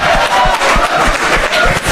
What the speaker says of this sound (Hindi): सबसे ज्यादा ये ताली बजाया है.